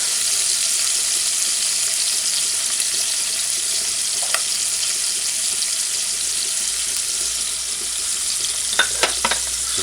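Codfish and garlic fry in a pan on a stovetop at medium-high heat, giving a constant loud sizzling hiss with a few faint clinks near the end.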